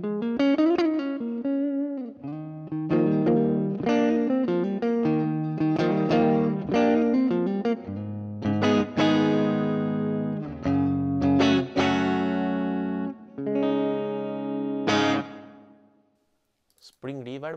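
Distorted electric guitar through a Valeton GP-200LT's plate reverb plays chords and single notes with a lush, lingering reverb tail, continuous and fairly loud, ending with a brief pause.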